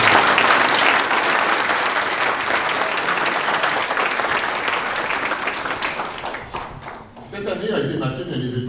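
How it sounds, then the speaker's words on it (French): Loud, sustained audience applause for graduates at a college diploma ceremony in Toronto. The dense clapping fades after about six seconds, and a voice then begins speaking at a microphone. "on commence en vous applaudissant, chers finissants et finissants."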